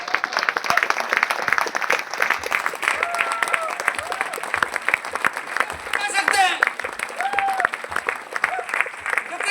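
An audience at an Amway event in Prayagraj claps steadily and loudly throughout, a dense patter of applause with a voice calling out over it now and then.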